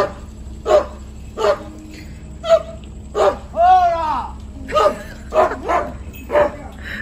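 Dogs bark repeatedly in short separate bursts at moderate distance, mixed with a whimpering yelp, over low background hum outdoors at a temple.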